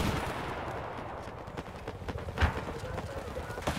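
Gunfire from Battlefield 4 multiplayer on PS4: scattered sharp shots pop over a dense, noisy battle bed, with one louder blast near the middle and a voice speaking over the action.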